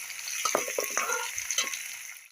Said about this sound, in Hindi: और इस प्याज को हमें इस तेल में तब तक फ्राई करनी है